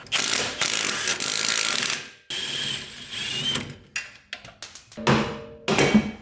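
Bolts being removed from a Subaru's rear coilovers: close mechanical ratcheting bursts, a few seconds of fast clicking, then a pause and shorter clattering metallic clicks and knocks, with no talking.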